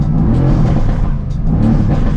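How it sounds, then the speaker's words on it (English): A Mercedes-AMG GT S with a secondary cat delete exhaust revs hard twice, loud and close, a raspy surging roar that briefly dips between the blips. "Let's rev it up."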